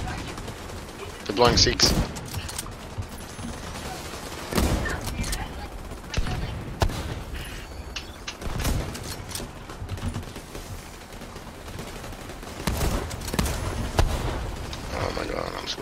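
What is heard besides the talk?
Gatling gun firing in the video game The Division 2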